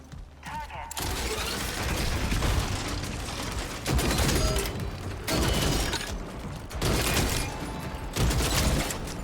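Rapid gunfire from a weapon in Gears of War: E-Day, loud and sustained in long bursts with brief pauses between them, layered with mechanical clatter while a person talks.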